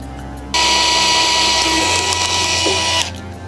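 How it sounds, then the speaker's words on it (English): A drill bores holes in the frame of a radio-control FPV wing suit, running loud and steady for about two and a half seconds with a shift in pitch partway through before it stops. "We're going to have to drill those holes."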